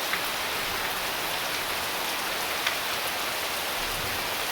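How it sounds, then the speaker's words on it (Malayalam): Heavy rain with thunder pours steadily onto a yard strewn with fallen dry leaves and broken coconut fronds, a dense continuous hiss with scattered drops, no voices. "ഇടിയോട് കൂടിയുള്ള മഴയാണ്. മുറ്റത്തൊക്കെ വെള്ളം"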